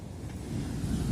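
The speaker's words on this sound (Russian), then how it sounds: "Это волна." Sea waves washing in on a Turkish coast in December, a steady low rushing surf with wind buffeting the microphone, alone and fairly close.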